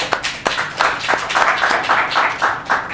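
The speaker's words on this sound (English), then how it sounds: "let's give brother a round of applause" Applause for a man who has just made a green apple kale matcha drink, several people clapping in a quick irregular rhythm, close and fairly loud, lasting a few seconds with no talk.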